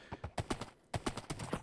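Horse hooves clip-clop in a block-building video game, a steady series of sharp, close hoofbeats in uneven pairs with a brief pause midway, no talking.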